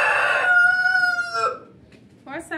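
A nearby rooster gives one loud crow that trails off, followed by a few short clucks, at close range with no talk.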